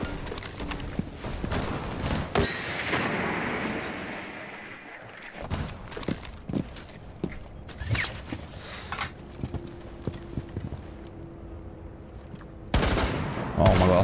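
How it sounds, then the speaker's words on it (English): Several sharp sniper rifle shots ring out in a video game as a barricade is targeted, each crack separate and loud among broadband game noise and scattered impacts, with a burst of heavier sound near the end. "is this sniper rifle 3 shots to break the barricade?"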